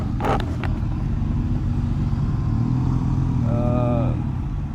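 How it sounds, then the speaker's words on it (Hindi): Motor traffic on a highway ride from Mumbai toward Pandharpur, with a steady engine drone and road roar throughout and a short rising engine whine near the end, while a rider talks over it. "और कुछ सुपर बाइक्स भी है मेरे साथ आगे यहाँ पे जो निकल रही है।"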